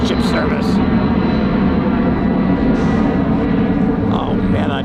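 A Boeing 757 jet departs Tampa for Atlanta, its engine roar a continuous rushing noise that swells briefly midway, with a person talking over it.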